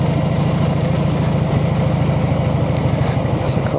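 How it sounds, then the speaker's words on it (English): A Brough Superior motorcycle engine runs at low revs while being ridden, a steady, close, throbbing pulse with a deep even beat and wind noise over it. "love to hear the engine."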